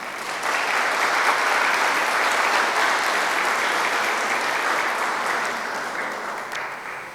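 Sustained applause from a church congregation, a dense, steady wash of clapping that holds evenly for several seconds before tapering slightly at the end, with no voices over it.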